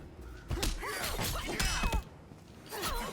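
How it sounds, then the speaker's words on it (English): Explosion of Cyrax's bomb in the fighting game Injustice 2: a burst of shattering, thudding impacts with metallic ringing tones, alone and fairly loud, followed by a brief lull and a second rumble. "this one actually just gives you a straight up Cyrax bomb explosion"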